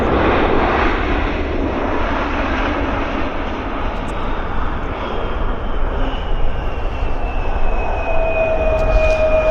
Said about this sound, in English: And he's on the roll. He might get airborne for us before the terminal building.